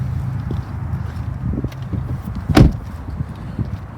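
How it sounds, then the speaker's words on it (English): A car door is shut with a single solid thump partway through, preceded and followed by shuffling footsteps and handling noise close by. "Now I just shut the door."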